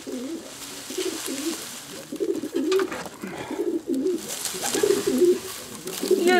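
Pigeons coo in a henhouse with repeated low, rolling calls in close succession, fairly loud and near, against faint rustling.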